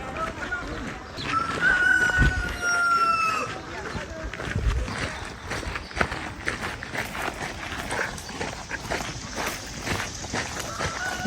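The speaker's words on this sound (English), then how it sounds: "And we have a rooster." A rooster crows a drawn-out call near the start, moderately loud, over steady walking footsteps and outdoor ambience during a 5k rooster run, with voices talking.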